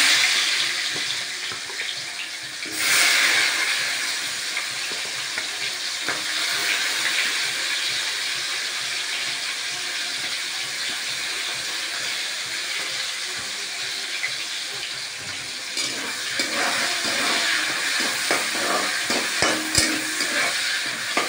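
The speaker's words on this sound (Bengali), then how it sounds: "তেল গরম হয়ে গেছে আমার, আমি যে পেঁয়াজ দিয়ে দিচ্ছি" Onions sizzle in hot oil with cumin seeds in a pan, a steady hissing fry that runs continuously, with occasional stirring clatter and no voices.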